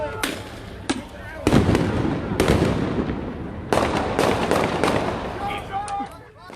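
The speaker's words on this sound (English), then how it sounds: "listen to the moments those gunshots rang out" Sharp gunshot-like bangs at a nighttime Louisville protest where police officers were shot, several loud reports at irregular intervals over crowd noise and shouting voices.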